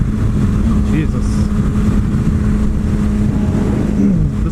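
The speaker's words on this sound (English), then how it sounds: "This bike is not even running to its full potential right now because there is an issue with the engine" A 600cc supersport motorcycle with an engine fault, its engine running with a steady loud low drone and slight rises in pitch, close by, with a voice speaking over it.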